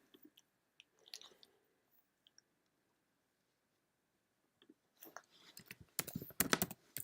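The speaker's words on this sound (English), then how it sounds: "you gotta stop chewing on my desk" Something gnaws on a wooden desk: sparse faint clicks and scrapes in a quiet room, then a dense, louder burst of chewing and biting in the last two seconds.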